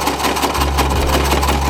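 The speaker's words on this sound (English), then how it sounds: "you can use a straight stitch to sew it up" A sewing machine runs a straight stitch along the hem of a bandana skirt, its motor starting up partway through and then holding a steady, close, continuous hum.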